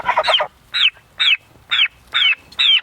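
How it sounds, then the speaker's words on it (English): Young heritage bronze-breasted turkeys, about eight weeks old, give six clear, close calls in steady succession, each a short, rising, slightly squeaky yelp separated by brief pauses. "These guys are bronze-breasted turkeys, and they're a heritage breed turkey"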